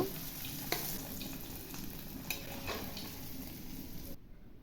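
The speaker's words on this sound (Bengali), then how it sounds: "ওই একই তেলে আমি পটলগুলোকে ভেজে নেব" Pointed gourd fries in hot oil left over from frying paneer, giving a quiet, even sizzle with a few light scrapes and taps of a spatula.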